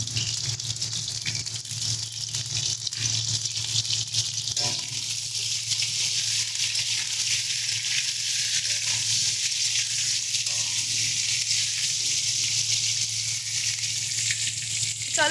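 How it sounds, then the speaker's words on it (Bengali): Pointed gourd (potol) pieces frying in oil with turmeric, a steady hissing sizzle heard close and continuous, with a low hum underneath and occasional faint stirring knocks. "পটলগুলোকে হালকা একটু লাল লাল করে ভেজে দিচ্ছি।"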